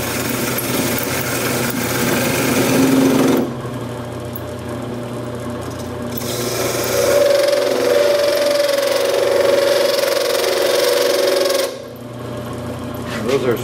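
A lathe turns and cuts a bamboo fly rod reel seat, giving a steady mechanical whir throughout, with a louder, brighter cutting stretch partway through and another at the start.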